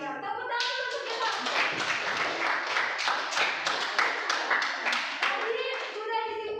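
A class of schoolchildren claps in a classroom, giving dense, rhythmic, close-up applause that lasts several seconds, with a teacher's and children's voices at the start and end.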